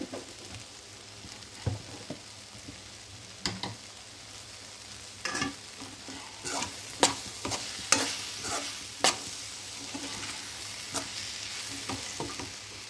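Amaranth leaves with split moong dal being stirred in a pan, a steady soft sizzle of frying under repeated scraping strokes of a spoon, with no talking.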